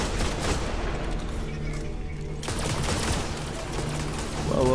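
Sniper and other gunfire in the Destiny House of Wolves expansion, a dense continuous barrage of shots and blasts filling the whole stretch at steady loudness, with no voices.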